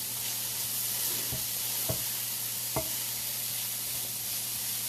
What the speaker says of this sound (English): Onions and mushrooms are cooking up beautifully.